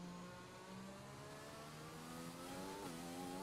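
Race car engines in the F1 2020 video game at the China circuit rev and whine steadily as cars pull away, pitch climbing and shifting with a gear change near the end, with no talk.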